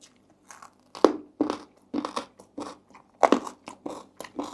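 Crisp crunchy bites and chewing of spicy Thai canned fish salad, close and clear, in a quick irregular series of about a dozen crunches with short pauses.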